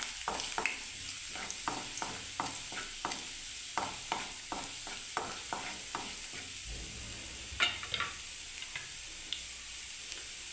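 Chopped garlic sizzles in hot oil, with steady frying hiss and repeated scraping stir strokes from a spatula in the pan, close and clear with no talking.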